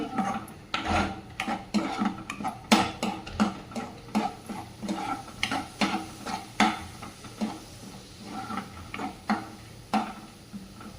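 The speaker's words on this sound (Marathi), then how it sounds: "पाव चमचा जिरे पावडर आणि थोडीशी हळद व्यवस्थित परतून घ्यायचे" Cumin powder and turmeric sautéed in a pan for a village-style green pigeon pea aalan, a steady run of scraping, ticking spoon strokes against the pan over a soft background, with no voices.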